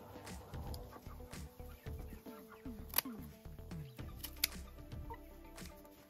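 Chickens cluck and a rooster calls around a backyard coop being readied for winter, with several sharp clucks and squawks at moderate distance and some wing flapping, no talk.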